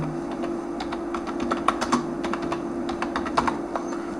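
Typing a name on a computer keyboard, a close series of quick, uneven key clicks over a steady low background hum.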